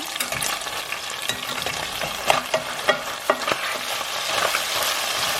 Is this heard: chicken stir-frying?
yes